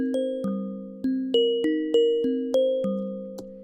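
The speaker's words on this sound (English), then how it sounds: "a bells track as well. We've got a bit of a chord and arpeggiator action going on." Synthesized bell tones play chords under a running arpeggiator, bright struck notes repeating in a steady, even rhythm with each ring decaying before the next, alone and clear.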